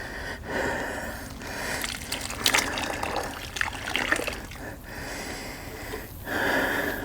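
Liquid poured onto vegetables in a wicking worm bed, a continuous wet splashing and trickling with scattered soft thumps and rustles.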